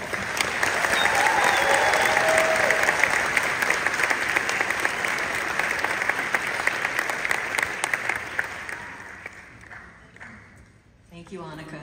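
Graduation audience applauding for a university medical laboratory sciences class of 2024, a dense, sustained round of clapping that carries on for several seconds before thinning out and fading near the end.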